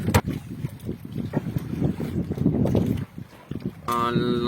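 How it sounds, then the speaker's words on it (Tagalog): Strong sea waves around a small boat offshore, with gusty wind buffeting the microphone, irregular splashes and hull slaps, and rough choppy water throughout, briefly joined near the end by a tonal engine or motor hum. "Lakas-lakas ang alon ngayon."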